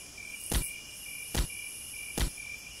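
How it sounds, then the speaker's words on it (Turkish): Insect buzzing in a zombie video game, a steady high whine with three short, louder bursts spaced about a second apart, close and alone with no talk. "Şu sinek vızıltısı sesi de yani iğrendirdi ya."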